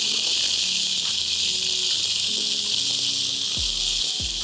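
Chopped onion and tomato sauté in a hot pan for a double beans pulao, giving off a steady, bright sizzling hiss throughout, with a couple of faint low knocks near the end.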